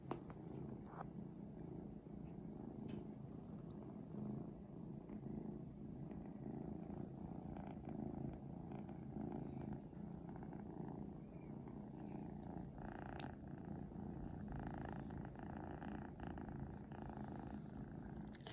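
A house cat purrs steadily and continuously right up close, a soft low rumbling that stays even throughout, quiet and with no voices.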